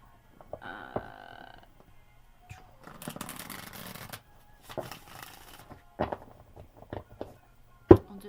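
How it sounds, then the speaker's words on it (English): Tarot cards riffled and bridged in several bursts, a long dense shuffle in the middle with sharp taps and clacks between, close and fairly quiet. "I'll do 3 shuffles and then we'll start."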